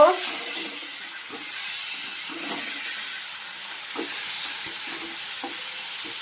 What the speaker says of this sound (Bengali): ওই তেলেটি টমেটো, পেঁয়াজ, রসুন দিয়ে দিয়েছি, নুন দিয়েছি, হলুদ দিয়েছি। এবার এটাকে ভালো করে ভেজে নেব।